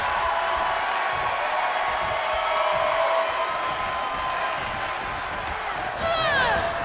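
Arena crowd in WWE 2K22 cheering and roaring steadily throughout a women's wrestling match, a loud continuous wall of noise with some whistles rising near the end.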